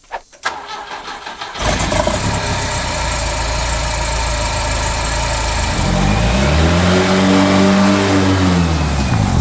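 After a few clicks and cranking, a Ford Durango engine fires up after sitting nine years, settling into a loud steady run, then revving up and back down near the end; no talking.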